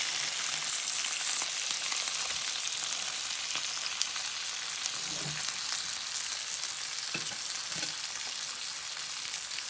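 Fish frying in a pan gives a steady, soft sizzle that runs unbroken throughout, with a few faint stirring or shifting sounds and no talking.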